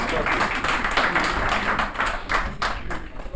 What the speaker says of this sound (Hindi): आप भरपूर तालियों में आ रहे हैं